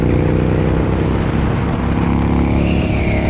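A Yamaha Bolt motorcycle engine with a custom fabricated exhaust runs steadily and loudly up close, a continuous rumbling drone with no talk.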